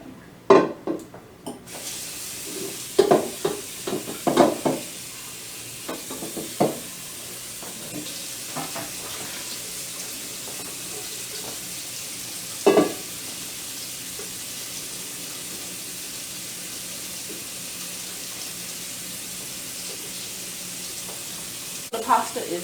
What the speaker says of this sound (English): transfer my shells to the sink and strain these